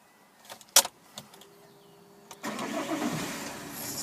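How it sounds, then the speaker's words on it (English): Silver Vauxhall Astra SRi five-door manual starting up: a few clicks and a key jingle, a brief starter whine, then the engine catches and settles into a steady, close idle. "no problem starting the vehicle"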